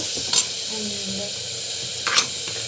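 A sautéed mixture with tomato, salt and asafoetida is stirred in a pan over a steady low hiss of frying, with two brief scraping strokes of the spoon close by and no voices.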